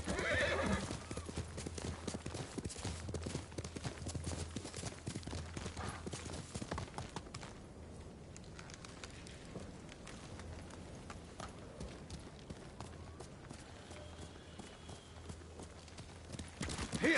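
Kage, a horse in the video game Ghost of Tsushima, galloping: rapid rhythmic hoofbeats with a whinny near the start, steady and fairly loud throughout, briefly softer midway, no talking.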